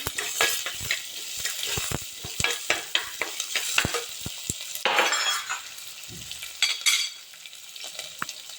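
Dried red chilies and small shallots frying in a pan for a spinach stir-fry, a steady sizzle broken by frequent sharp stirring clicks and scrapes of a spoon against the pan, close and clear with no talking.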